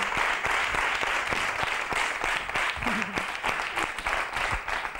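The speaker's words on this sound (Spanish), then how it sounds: "Un aplauso." An audience claps steadily after a guitar song, filling the whole stretch with sustained applause, with a brief voice rising through it.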